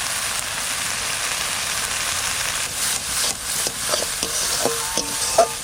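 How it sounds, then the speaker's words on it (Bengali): Spices with green chilli, a splash of water and salt stir-fried for a crab curry, giving a steady close sizzle with scraping stirs and clinks of a utensil toward the end, no talk. "মশলা কষানো হয়ে গেছে"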